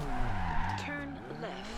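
A Toyota Trueno AE85 drifts in Forza Horizon 2, its engine note bending through harmonics as tires squeal and skid steadily across the whole moment, loud and close, with a voice talking over it.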